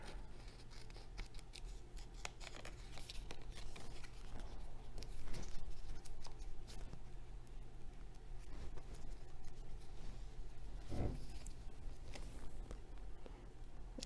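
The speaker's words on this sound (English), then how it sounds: "We're just going to take our scissors and trim off the excess tape here." Scissors trim excess washi tape from a handmade bookmark, a series of quiet, close snips and crisp paper-and-tape cuts scattered over a faint background hum, with one louder thud near the end.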